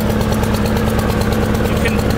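A Honda lawn mower engine idles steadily while warming up, a close, loud, even pulsing putter with no change in speed over a couple of seconds.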